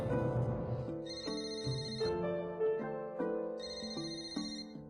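A telephone ringtone plays on an outgoing call, a melodic electronic ring repeating in steady bursts, clear and close with no voices.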